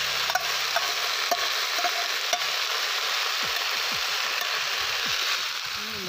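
Cabbage with sausage and onion fries for bigos, a steady close sizzle with occasional scraping stirs and light clicks throughout, no voices.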